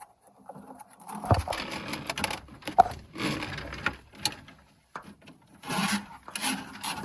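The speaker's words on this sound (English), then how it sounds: "you're going to crank this handle right here and squeeze this trigger to feed it forward" A drain snake is cranked by hand and fed into a clogged sink drain, giving close, irregular bursts of scraping and rasping grind separated by short pauses, with no talking.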